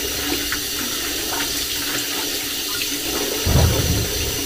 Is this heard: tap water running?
yes